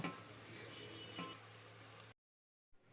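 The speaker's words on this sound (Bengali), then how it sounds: "এখন পেঁয়াজটা বেরেস্তা ভেজে নেব" Chopped onions frying in hot white oil in a saucepan for Bengali potato biryani, a soft continuous sizzle that cuts off abruptly into silence before a faint return.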